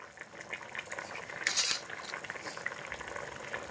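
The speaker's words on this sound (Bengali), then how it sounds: "ভেজে রাখা ডিমের পিসগুলোকে দিয়ে দিচ্ছি। হালকা একটু নাড়াচাড়া করে দেব" Fried egg pieces are stirred in a cooking pan with a utensil, giving soft, steady scraping and light sizzling. A brief louder clatter comes near the middle, with no voices.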